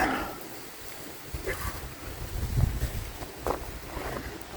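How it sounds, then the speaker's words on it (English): Gusty spring wind in Maine buffets the microphone in low, uneven rumbles, swelling and easing with a few brief louder puffs. "it's just too windy"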